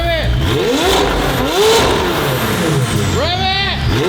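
A turbocharged car engine revving repeatedly, each sharp rise and fall in pitch with turbo whistle, loud and close, while excited voices talk and shout over it.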